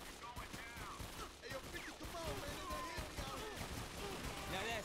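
Rapid gunfire from the video game 50 Cent: Bulletproof, a steady run of shots over a dense mix of game effects and voices, with talk running through it.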